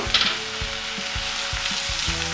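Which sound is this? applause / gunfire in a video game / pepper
pepper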